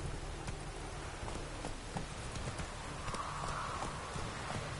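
Roach, the player's horse in The Witcher 3, gallops with a steady rapid clip-clop of hooves over constant ambient game background noise, fairly close and continuous throughout.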